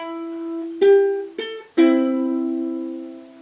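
Ukulele notes from a tune ring out, starting with one sustained note and followed by three separate plucks. Each pluck is clear and resonant and decays slowly in a quiet room.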